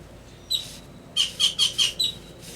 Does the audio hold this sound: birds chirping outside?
yes